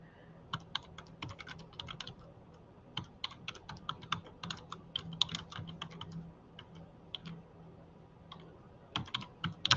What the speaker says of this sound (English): And so I'm going to type this in here.